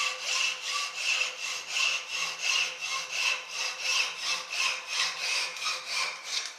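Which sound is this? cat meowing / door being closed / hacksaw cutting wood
hacksaw cutting wood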